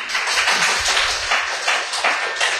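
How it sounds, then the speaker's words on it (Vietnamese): A church congregation gives a round of applause to welcome a guest, steady dense hand clapping throughout, moderately loud and fairly close, with no talk over it. "Chúng ta chào đón Chúa một tràng pháo tay ạ."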